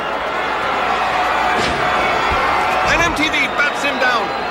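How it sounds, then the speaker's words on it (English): A wrestler slams her opponent to the mat at a GLOW wrestling match, giving a dull thud amid crowd noise while a commentator talks over it. "she slams her out of the circle"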